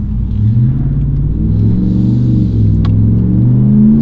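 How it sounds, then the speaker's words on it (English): A RAM 1500 pickup with a 3-inch cat-back, dual rear exit exhaust rumbles loudly and deeply as it accelerates, the low engine note rising and swelling continuously with no speech. "It gives you a much cooler exhaust note."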